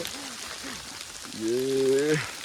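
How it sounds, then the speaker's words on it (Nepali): Hail patters steadily on a mountain trek, a dense soft rattle of ice pellets throughout, with a voice briefly sounding over it. "आइस परिरहेको छ यार"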